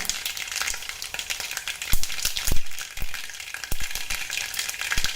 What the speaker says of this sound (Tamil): கடுகு நல்லா பொரிய விட்டுட்டு அதுக்கப்புறம் நம்ம மிளகாய் சேர்த்துக்கலாம்.